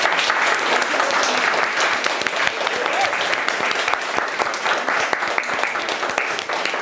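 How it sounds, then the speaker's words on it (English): A full room of audience members applauds a panel at the close of an evening event celebrating women's career stories, a dense, sustained roar of clapping held at steady loudness for about seven seconds. "Please join me in giving the panel a round of applause"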